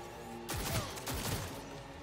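A gun firing in Cyberpunk 2077, two distinct shots about half a second apart, each a sharp crack with a short tail, fairly quiet against a steady background hum.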